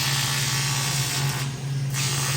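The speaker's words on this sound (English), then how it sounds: "Gary is finishing up the last of the welding" Welding on a boat swim platform during a custom inboard boat build, heard as a steady, close electrical hum and buzz with a brief dip partway through.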